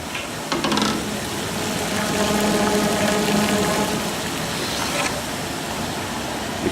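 Wood-fired 3x10 stainless steel maple syrup evaporator at a rolling boil, a dense steady hiss and bubbling rush filling the whole stretch, with faint knocks and a brief clatter over the constant roar.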